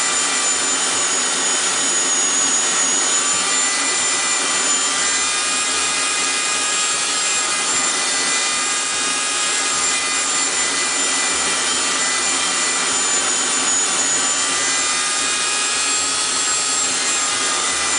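Steady, continuous high-pitched whine of a grinder removing the copper plating from pennies, unbroken and fairly loud throughout with no talking.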